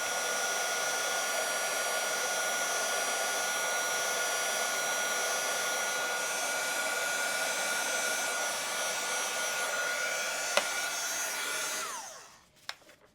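A heat tool blows a steady, loud hot-air whoosh onto a handmade Valentine's card for several seconds, then switches off and spins down, leaving a couple of small clicks.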